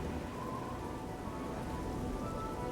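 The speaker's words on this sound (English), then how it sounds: "The first rain of the Shivering Islands." Steady rain pours in the Shivering Islands expansion of the video game Oblivion, a dense, even hiss of falling water with a soft low rumble beneath, holding constant throughout with no voices.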